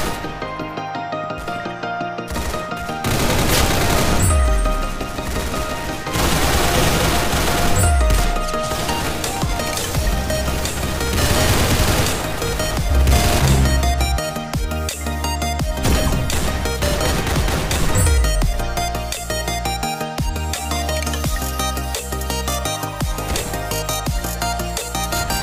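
Gunfire from the video game Arsenal crackles in rapid bursts and single cracking shots, loud and close, layered over a constant game soundtrack with musical tones.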